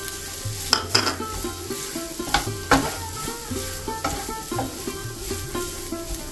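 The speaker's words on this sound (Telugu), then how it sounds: "మనం తీసుకున్న కప్పు కొబ్బరి తురుమును వేసేసుకొని వేపుకుందాం." Grated coconut sizzles in hot ghee while a spoon stirs it repeatedly, with steady frying crackle broken by regular scraping strokes against the pan, close and clear.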